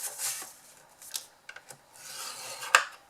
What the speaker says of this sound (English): With your shim, we're going to score all of our sides at 1 inch